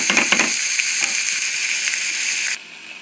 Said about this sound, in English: And then you stir fry those until they have a nice brown color to them.